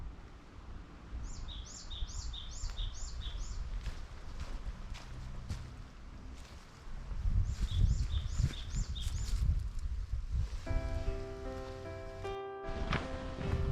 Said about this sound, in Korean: 새소리도 한번 들어볼까요?